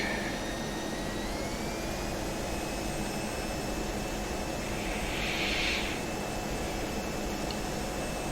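F-16C jet engine throttling back out of afterburner in the DCS flight simulator, a steady loud broadband roar with a faint whining tone that drifts slightly, heard continuously without talk.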